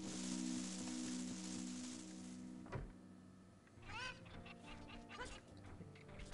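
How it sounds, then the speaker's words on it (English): Cuccos, the chickens in the video game The Legend of Zelda: Ocarina of Time, squawk and cluck in a burst of rising calls, mixed with game music and other sound effects. "I like how our chickens run away immediately."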